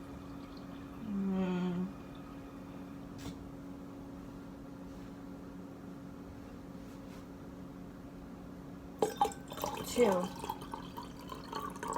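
Water is poured from a measuring cup into cups, ending in a short run of splashes and trickles after a quiet stretch with a low hum and a brief murmured voice.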